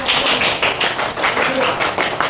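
A school class audience claps for a group presentation in a short, dense burst of applause, loud and close throughout.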